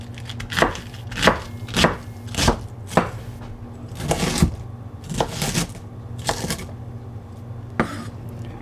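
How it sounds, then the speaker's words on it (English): A knife slices cabbage on a cutting board for Korean budae jjigae stew, about a dozen crisp, evenly spaced chops close up, each a sharp thud, with faint kitchen background. "we'll slice up our cabbage"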